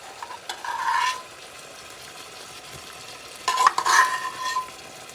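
Food sautéing with salt in a pan, a low steady sizzle broken by two louder bursts of stirring and scraping near the start and toward the end, no speech.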